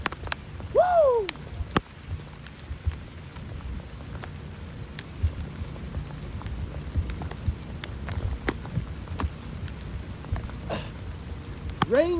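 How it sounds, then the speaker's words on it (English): Rain falls steadily during a hurricane, a continuous hiss of drops with scattered sharp taps and a faint sweeping tone early on, no talk over it. "Raindrops falling on my cheekbones."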